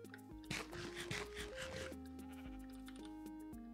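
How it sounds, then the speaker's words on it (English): A white sheep in the Minecraft video game bleats in a short wavering cry near the start, layered over steady in-game background music, with no talk. "And then there's a white sheep over here."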